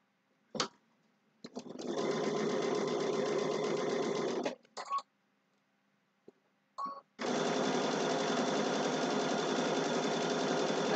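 A sewing machine stitches a seam on a fabric shopping bag in two long runs, broken by short stop-start bursts and pauses while the fabric is turned.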